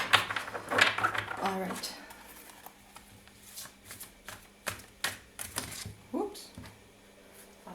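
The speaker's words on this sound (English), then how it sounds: "It's a difficult deck to shuffle because it's bigger than my hand." A large tarot deck, bigger than a hand, is shuffled after a few brief spoken words, producing a series of close, sharp card slaps and riffling clicks at an uneven pace.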